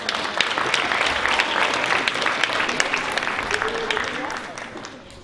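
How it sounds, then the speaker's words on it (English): Applause greets the MC at a high school hall of fame induction ceremony, a steady crowd clapping with crisp individual claps standing out, sustained for most of the stretch before tapering off near the end. "Please give him a round of applause."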